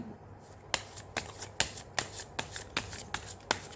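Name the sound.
shuffling tarot cards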